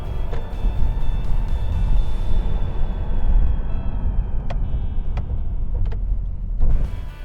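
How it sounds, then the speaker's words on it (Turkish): 2018 Honda Civic Executive sedan with a diesel engine and automatic gearbox, heard from inside while driving: steady low engine and road rumble with a few faint clicks. "Şanzıman iyi hızlı da vites düşüyor bu arada."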